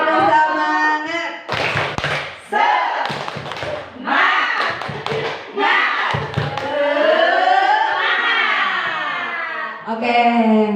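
A group performs the 'tepuk semangat' clap chant in rhythmic bursts of clapping mixed with chanting voices, loud and close, with speech between the clap patterns.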